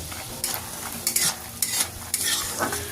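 Lentil dumplings (bori) frying in hot oil in a wok while being stirred, a steady close sizzle broken by several sharp scraping bursts from the spatula.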